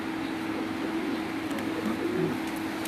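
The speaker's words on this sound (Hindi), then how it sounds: "ये मादा भी आप देख सकते हैं जी, उस्ताद अकमल की दी हुई कबूतरी है जी भाई रफ़ीउल्लाह को।" A female pigeon coos on a rooftop in a steady, low, continuous murmur, with a faint hum underneath and no talking.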